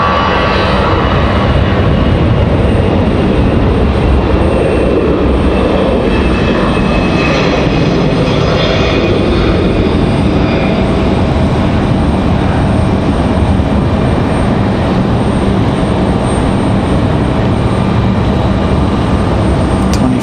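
An Airbus A319 departing Raleigh-Durham, engines roaring loudly and steadily as it climbs, the tone shifting slightly as the jet passes.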